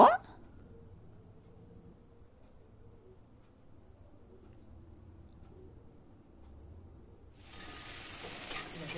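Spice paste going into hot oil in a pan for a Bengali-style vegetarian dish: a faint low kitchen rumble, then a loud, steady sizzle bursts up near the end and keeps going.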